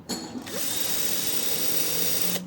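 A power drill whirs steadily for about two seconds, loud and close, starting and stopping abruptly with a high-pitched whine as it bores through a plastic Volkswagen windshield washer reservoir.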